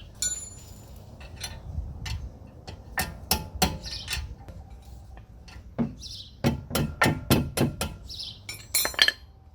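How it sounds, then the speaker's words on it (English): Steel hammer taps driving the brake caliper pins into a BMW 4 Series M Sport during a brake pad and rotor job: bright metallic ticks, first scattered, then a quick run of close, ringing strikes. "We'll go ahead and tap the pins in."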